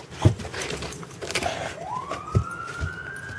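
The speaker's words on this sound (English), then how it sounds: "Oh, you hear the siren." A distant police siren rises into a steady wail over muffled outdoor noise in falling snow, with a few soft thumps nearby.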